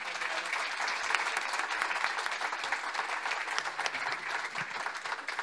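Sustained applause from a concert audience greeting a cellist, steady and dense throughout, moderately loud and fairly close, with no talking over it.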